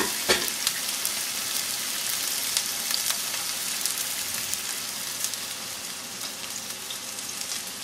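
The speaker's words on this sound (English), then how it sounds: "those are some of the pans I use for my sauteing my vegetables" Vegetables sautéing in a pan, either cast iron or stainless steel, give a dense, steady sizzle with scattered crackles and light stirring, close and continuous throughout, with no voices.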